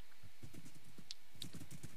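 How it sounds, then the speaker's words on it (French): Horse hooves clip-clop in a steady, fast rhythm in a video game, close and clear, with a few small sharp clicks among the steps. "il est là mon cheval. Mon fidèle destrier qui ne me quitte pas depuis le début de l'aventure"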